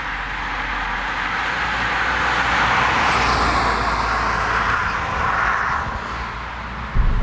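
A Kia Rio 1.0 T-GDI 120 PS mild hybrid drives over a rough, uneven road, heard from inside as a steady road and engine rumble that swells through the middle and ends with a sharp thump.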